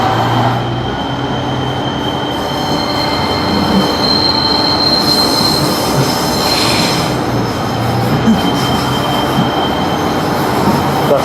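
Pacer diesel train passing on the line to Cardiff Bay, loud and close, with a sustained roar, squealing wheels on the rails and rhythmic clatter across the whole stretch.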